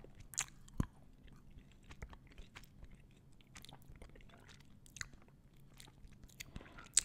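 Crunchy bites and soft chewing of a Guittard chocolate drop, close and quiet, with several sharp bite transients early and late over low, steady mouth sounds and no talking.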